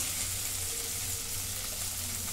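Red bean pods roast in a pan over a low gas flame, a steady close sizzle and crackle that holds at an even level throughout with no talk.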